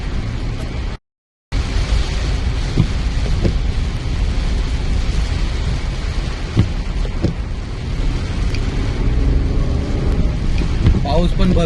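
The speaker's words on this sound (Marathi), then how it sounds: "पाऊस पण भरपूर पडतोय इथे कासूमध्ये, तुम्ही बघतच असाल पाऊस" Heavy rain pouring in Kasu makes a loud, unbroken roaring wash that drops out briefly near the start and then carries on, with some wind-like rumble mixed in.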